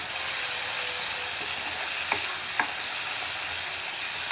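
Spiced masala frying in ghee for Marwari gatte curry, a loud, even sizzle close by with two sharp spoon taps against the pan, no voices.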